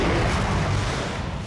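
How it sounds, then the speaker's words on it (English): Big industrial explosion at the Pepcon chemical plant in the desert, a dense, loud, roaring rumble with broadband blast noise filling the whole moment and no break. "that's when the first big explosion happened"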